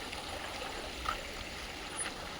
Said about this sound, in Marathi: हा झरणावरतून डोंगरावरून वाहत येतो आहे आणि हे पाणी जे असतं ते एकदम स्वच्छ असतं नितळ असतं